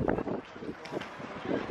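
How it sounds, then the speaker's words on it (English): Gusty wind buffets the microphone outdoors at a sandy spot, a rough rumbling roar with uneven puffs that continues through the whole moment. "too windy"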